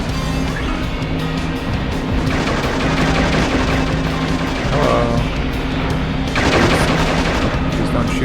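Rapid machine-gun fire pours onto a vehicle in the video game Shadow the Hedgehog, loud and continuous over a droning engine hum, with a few heavier impacts mixed in.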